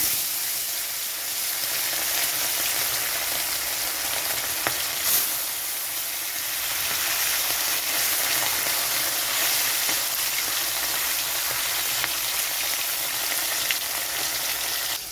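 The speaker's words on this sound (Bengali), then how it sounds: "এখানে আমি মাছগুলো ভাজার জন্য দিয়ে দিচ্ছি" Bhola fish pieces fry in hot mustard oil in a kadai, a steady, loud sizzle and crackle that holds evenly throughout with no talking.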